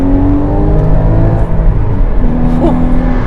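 A Porsche Cayman GT4 981 engine revving in second gear with sport mode on, a loud, close, steady engine note that dips briefly and holds again, with faint bits of other sound over it.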